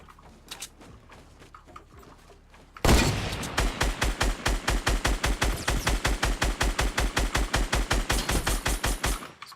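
Gunfire in Fortnite Battle Royale, a long rapid automatic burst of evenly spaced loud shots after a quiet start, close and sustained for several seconds.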